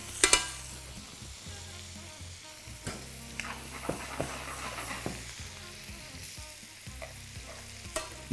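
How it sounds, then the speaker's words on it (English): Prawns frying in foaming chili garlic butter in a pan make a steady close sizzle, with scattered clicks and scrapes of stirring and utensils against the pan, and no talking. "Now that chili and garlic butter is foaming away there."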